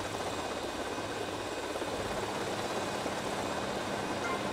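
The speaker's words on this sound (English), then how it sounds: "Pressing the down or S button decreases the rotor speed, causing the helicopter to descend." Steady, continuous helicopter rotor drone with a low engine hum, unbroken and fairly loud throughout, no voices, in GTA Vice City.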